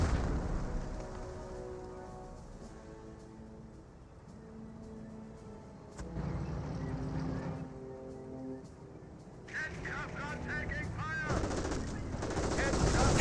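Automatic and rifle gunfire from a Company of Heroes battle between Panzer Elite and US forces, sustained bursts with heavy booms running throughout, mixed with game sound effects.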